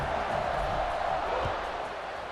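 A stadium crowd in the College Football 26 video game buzzes after a score, a steady dense roar of many voices holding at an even level.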